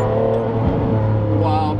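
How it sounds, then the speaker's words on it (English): A straight-piped Ferrari Enzo engine revs loudly while driving, giving a strong, throaty tone with layered harmonics. The pitch shifts slightly as the revs rise and fall over a short burst. "Is it the Enzo just driving around?"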